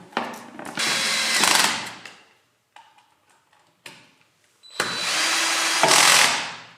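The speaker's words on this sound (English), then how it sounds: "use these 3 bolts here and install the mudguard just here." A power driver runs bolts in to fit the mudguard on a Tiger 2000W 60V electric pit bike: two loud whirring bursts, each a couple of seconds long, with quiet ticking and handling noises between them.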